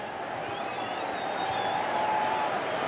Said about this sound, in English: you'll hear the crowd react to this.